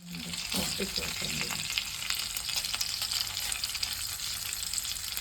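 Spices sizzle and crackle in hot oil for Indian gooseberry (amla) pickle, a loud continuous frying hiss with a few stirring clinks early on.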